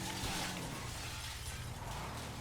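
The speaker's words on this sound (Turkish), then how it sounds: "Üç cam kırdı, iki cam kırdı." A car in GTA 5 smashes through a row of glass panes, giving a dense, continuous crunching shatter that stays loud and close for about two seconds with no voices.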